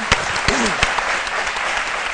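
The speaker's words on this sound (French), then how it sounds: "on les applaudit très fort" Audience applause on a French-language midday TV talk show, a loud, steady round of clapping for the mothers in the room, with a few sharp individual claps standing out and a brief voice heard over it.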